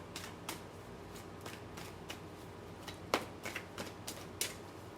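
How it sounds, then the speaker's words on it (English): Playing cards riffle and snap in a quick series of crisp, light flutters, close and fairly quiet. "One last shuffle."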